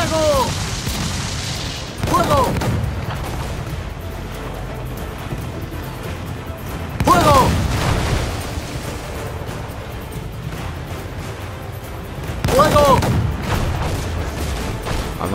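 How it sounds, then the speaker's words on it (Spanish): Ship cannons boom during a naval battle in Assassin's Creed IV Black Flag, heavy blasts repeating at roughly five-second intervals over a steady rumble of sea and game ambience. "Cañonazo más y ya está."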